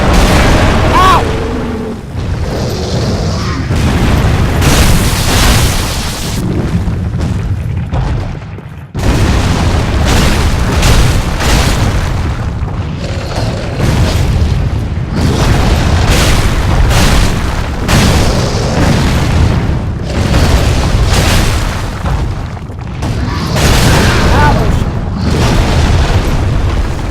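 Boulders hurled in Dark Souls 3, producing a continuous barrage of heavy, rumbling booms and crashing impacts, very loud and close, with a short break midway before the pounding resumes.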